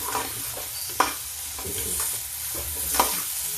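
Potatoes and onions fry in a pan with a steady close sizzle, stirred now and then with a couple of sharp utensil knocks against the pan.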